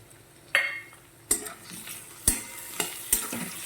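Tomato puree is poured into a hot pan for a spicy green pea curry, bringing a sharp hiss and then a crackling sizzle, with several bright metal spoon knocks and scrapes against the pan.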